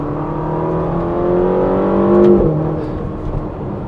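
A 2016 Ferrari California T engine revs up steadily to 7,500 RPM, its pitch climbing to a loud peak and then easing off, close and alone.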